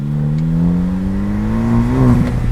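A 2016 Specter Motor Works kit car engine revs under a touchy throttle, a loud close droning hum rising steadily in pitch, then briefly wavering near the end.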